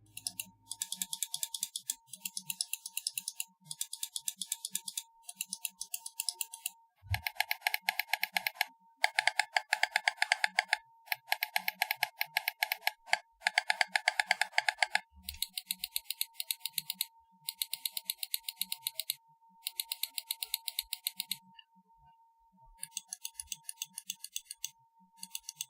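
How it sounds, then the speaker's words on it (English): Bursts of rapid, crisp clicking from a Nixeus Revel gaming mouse with 20-million-click Omron switches, in quick runs separated by short pauses, close and clear with a faint steady hum beneath. "This mouse uses Omron switches rated at 20 million clicks."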